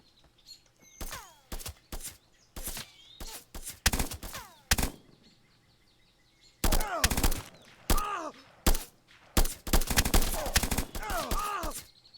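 Weapon fire in the video game Eminus comes in sharp bursts of gunshots, alone and then in quick strings, spaced between quiet moments with faint ambient background.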